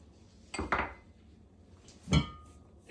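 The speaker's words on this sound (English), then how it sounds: "Going to add the roasted peanuts" Roasted peanuts tipped into a stew pot for a vegan African peanut stew, giving two short clattering bursts of nuts striking metal with a quiet pause between them, close and fairly soft.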